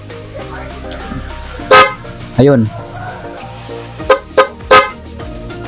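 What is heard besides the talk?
dual horn honking on Honda Beat motorcycle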